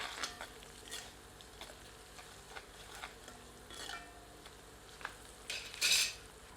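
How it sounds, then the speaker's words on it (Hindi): A ladle stirs turmeric and salt in a hot pan of cooking oil for a taro root dish, giving a soft steady sizzle with scraping strokes and a brief metallic clink near the end. "एक बार अच्छी तरह करछी चलाते हैं।"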